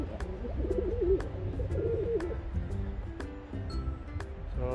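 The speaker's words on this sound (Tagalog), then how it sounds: "sumasagot na to si Lightcheck sa kanya. Sumasagot na yan kay Bluebar" Pigeons in a loft, including a four-month-old youngster, coo back and forth in overlapping low, throaty calls, steady and close, with a few sharp clinks in the background.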